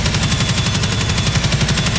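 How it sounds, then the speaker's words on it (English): Turret-mounted machine gun fires a sustained burst in an audio drama, rapid regular reports hammering steadily and loudly throughout, close and uninterrupted. "I held the trigger down, letting bullets fly through the air"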